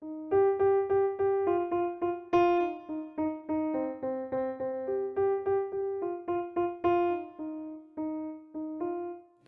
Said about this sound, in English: the other piano is playing a running melody, sometimes called a motif or an ostinato pattern that sounds like this